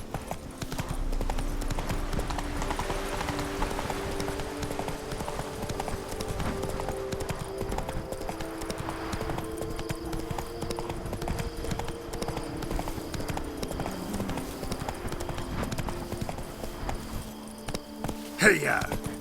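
Horse hooves clip-clop steadily through an extended ride in The Witcher 3, a continuous rhythmic beat with a low hum beneath and voices talking over parts of it.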